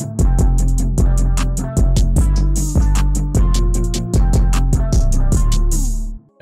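An unmixed FL Studio hip-hop beat pairs booming 808 bass and punchy drums with a rapid hi-hat pattern and a bright melody sitting high and loud, looping steadily with no talking.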